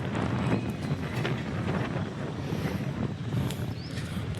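Cool wind blows steadily during a light rain, a continuous low rumbling rush buffeting the microphone up close, with no voices.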